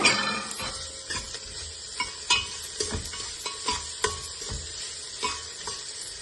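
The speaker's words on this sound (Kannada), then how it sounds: "1-2 ಟೊಮೆಟೊ ಕಟ್ ಮಾಡಿ ಇಟ್ಕೊಂಡಿರೋದು ಹಾಕ್ತಾ ಇದ್ದೀನಿ" Chopped tomatoes stirred into frying onions for potato sagu, a soft sizzle under repeated scraping of a spoon against the pan in an uneven rhythm, fairly close and moderately quiet.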